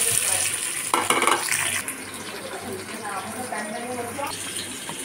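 Chopped onion hits hot ghee in a handi cooking pot and sizzles loudly, with a steady frying hiss and a few clatters. A voice talks over it.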